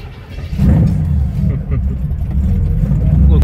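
A Chevrolet Camaro pulls away at the start of a track reconnaissance lap during a charity event, its engine growling and building steadily beneath a voice talking over it.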